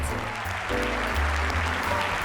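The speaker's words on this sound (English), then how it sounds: "I hear a lot of great fans out there, audience clapping." An audience claps at the Columbus Zoo's Wildlights holiday show, a steady wash of applause that swells slightly partway through.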